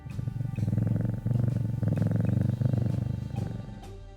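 A cat in a video game purrs steadily while getting head scratches, a close, loud, rumbling purr in repeated long breaths with brief gaps between them, heard alone.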